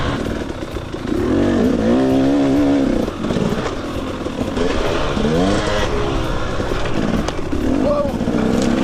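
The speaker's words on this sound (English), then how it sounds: "So you can tractor this two-stroke." A two-stroke dirt bike engine drones and revs loudly as the bike is ridden, pitch rising and falling with throttle, while a rider talks over it.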